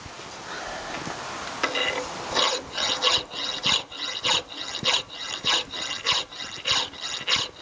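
A metal bolster plate is filed by hand, giving a steady run of rhythmic rasping strokes, close and moderately loud, with a slower start before the regular back-and-forth rhythm sets in.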